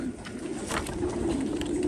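A pigeon hen coos softly and steadily at a pigeon auction, close by, with faint room noise and no talk over it.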